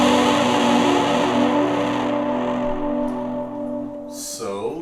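Electric guitar played through a Line 6 HX Stomp patch with fuzz, chorus, tape echo and spring reverb, giving a loud, sustained, distorted chord that rings and slowly fades, with a brief pick scrape near the end.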